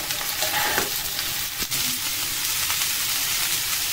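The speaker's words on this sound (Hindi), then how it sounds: "अब इसमें ये सारी सब्जियां डाल दें" Mixed vegetables go onto sautéed onions in a pan over high heat for Indian-style Mongolian rice, crackling and hissing loudly with a few sharp spatula clacks while being stirred.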